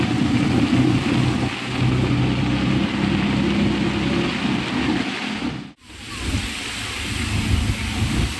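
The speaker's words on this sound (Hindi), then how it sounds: "इसके बाद ज़रा ज़ोर से ही है बारिश।" Heavy rain pours onto a busy Bangalore street in Shivaji Nagar, a dense roaring hiss mixed with passing traffic rumble, cutting out briefly before the downpour resumes just as loud.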